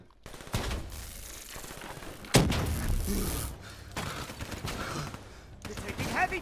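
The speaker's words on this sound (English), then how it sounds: "You're taking heavy fire!" Heavy gunfire in Call of Duty: Black Ops III, with dense bursts of shots and thuds through a battle scene, peaking with a sharp loud blast partway through and continuing in rolling volleys under faint voices.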